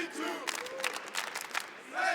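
An esports arena crowd at the BLAST R6 Copenhagen Major finals cheers for G2 against Team Liquid, a moderate wash of shouting and applause rising and falling in short bursts, heard a little way off.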